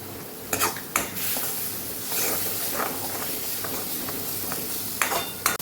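Eggplant curry sautéing in oil in a pan on a gas stove, with steady hiss and sizzle and repeated sharp clinks of a spoon stirring against the pan, close and alone.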